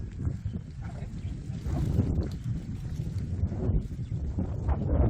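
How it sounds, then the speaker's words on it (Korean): Strong wind gusts through an African home construction site among banana plants, a loud, rough, low rumbling roar buffeting the microphone, continuous and close, without talk. "바람이 엄청 세요 바나나 잎 찢어질 정도로 굉장히 세거든요"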